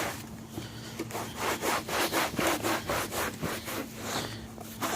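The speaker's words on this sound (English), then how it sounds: "We'll scrub it down there a little bit." Soapy towel scrubbing a Peavey professional audio speaker cabinet, a steady run of rough rubbing strokes close by, rhythmic back-and-forth swipes with no talking.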